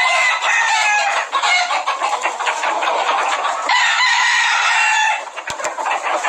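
A crowded flock of about forty-five roosters crows without pause, calls overlapping and clucks scattered through, loud and close throughout.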